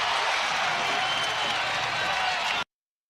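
A basketball arena crowd roars during a Mavericks run against Houston, a dense, sustained wall of cheering and applause that holds steady at high volume before cutting off abruptly.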